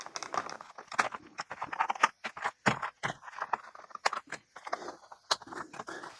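Cable ties holding bar clamps to a cardboard packaging backing are cut, giving a rapid series of sharp close snips and plastic clicks with small rattles in between.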